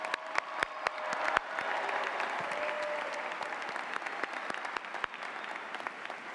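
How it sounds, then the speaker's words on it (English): A crowd at a university commencement ceremony claps for the campus staff, a dense, steady wash of applause with a few sharper claps standing out. It holds at even strength throughout and no one speaks over it. "So join me in giving them a huge round of applause for all the hard work they did."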